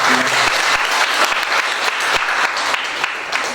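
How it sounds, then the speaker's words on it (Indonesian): Audience applause at a school department reflection gathering, a loud burst of many hands clapping that starts strong and thins slightly toward the end, with no speech. "tepuk tangan untuk kita semua"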